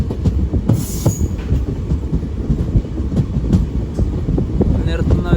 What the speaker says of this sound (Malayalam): ട്രെയിൻ അങ്ങനെ മുരുടേശ്വർ സ്റ്റേഷനിലേക്ക് ഇതാ എത്തിക്കൊണ്ടിരിക്കുകയാണ്